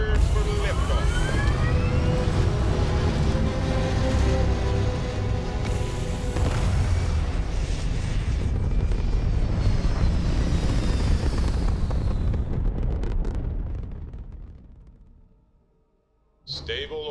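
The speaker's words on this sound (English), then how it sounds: "We're cleared for liftoff." Spaceship lifting off into orbit in the game Starfield, a loud sustained rumbling roar with rising whine layered over it, fading out toward the end before a short burst returns; speech is present alongside it.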